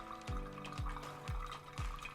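Water flows from a smart electric pour-over coffee kettle, a steady close trickle with soft gurgling pulses about every half second, heard alone without talk.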